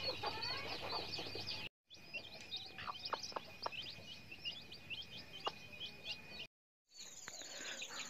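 Hens with newly hatched chicks at night on a poultry farm, soft repeated clucks mixed with a thin high steady peeping from the chicks, close by, broken by two brief silent gaps.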